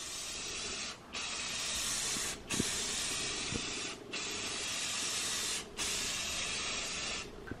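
Spray paint hissing onto the bottom glass of an empty aquarium in steady, close bursts of several seconds each, with four brief pauses between passes.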